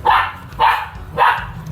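Giant poodles barking in three evenly spaced bursts about half a second apart, loud and close, with a steady low hum underneath.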